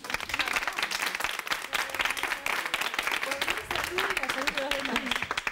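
Studio audience applauding a woman who quit smoking on a health talk show, steady dense clapping throughout with voices talking over it.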